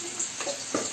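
Cumin seeds and onion in hot oil crackle and sizzle briefly and fairly softly, with a couple of small pops over a steady hiss and no talking.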